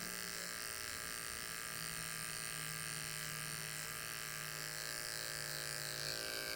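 An electric hair clipper runs steadily through a skin fade haircut, giving a continuous close buzzing hum that holds even for several seconds with no talking over it.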